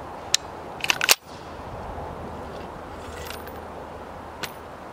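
A Kel-Tec RFB 18-inch rifle fires and then fails to feed: a sharp crack is followed by a few metallic clicks and rattles. After these, there is a long, quiet outdoor stretch with one more faint click.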